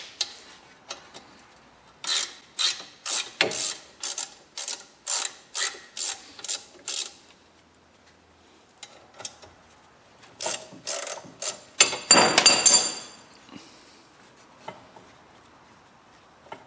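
A ratchet wrench removes a bolt during a front wheel bearing replacement on a Chevrolet Cruze, clicking in a run of close, evenly spaced bursts, then a pause, then more ratcheting and a quick fast spin near the end.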